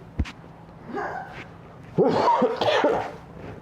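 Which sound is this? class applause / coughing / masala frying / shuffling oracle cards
coughing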